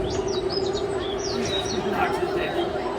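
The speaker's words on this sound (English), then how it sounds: "Hey, the birds are chirping." Birds chirp and tweet in scattered, overlapping calls against a steady background hum in the OMSI 2025 game, with a voice talking over them.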